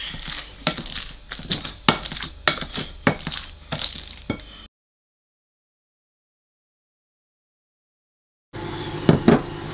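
A masher repeatedly pressed into ripe bananas in a bowl for banana bread, about ten squelchy, crunchy strokes in a steady rhythm, then a long gap of silence before a few more close handling noises.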